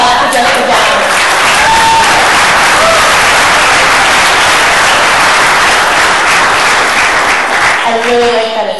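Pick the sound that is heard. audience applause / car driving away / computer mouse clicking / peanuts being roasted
audience applause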